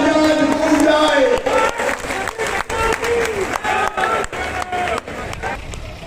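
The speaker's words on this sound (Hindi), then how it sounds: "अभिनंदन कीजिए नड्डा जी का और जोर से धन्यवाद की तालियां गूंज जाए" Crowd at a BJP political rally in Khargone, a burst of clapping and cheering mixed with a harmonized chant of many voices, loud and close, with breaks in the noise toward the end.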